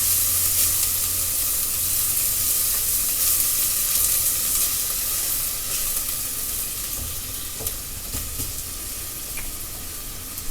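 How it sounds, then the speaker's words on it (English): Vegetables fry in butter in a pan, giving a loud, continuous hissing sizzle with faint scattered pops and no talking. "Our butter's already in there, cooking up with our vegetables."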